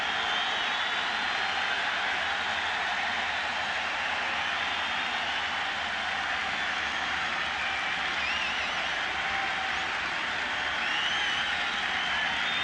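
A dense baseball stadium crowd at a 1997 playoff game between the Orioles and Indians keeps up continuous, loud applause and cheering throughout, a steady wall of noise with no pause.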